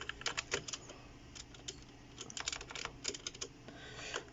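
Typing on a Zet Blade mechanical keyboard with Kailh Red switches, close and clear, irregular bursts of keystrokes with short pauses between clusters, no talk.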